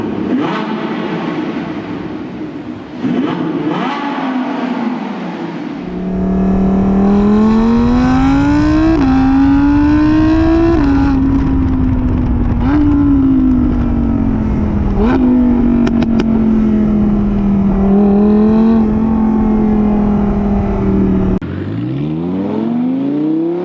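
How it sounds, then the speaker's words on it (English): A 2015 Audi R8 V10 Plus engine revs hard and high, pitch climbing and dropping through repeated gear shifts, loud and close, sustained for about fifteen seconds before easing off. "the sound this car makes in the high RPM range, it's just so exhilarating"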